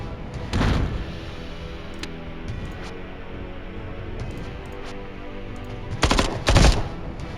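Sentry gun in the tactical video game Templar Battle Force fires rapid automatic bursts: a short volley early on, then two louder, punchy bursts near the end over a quiet steady background.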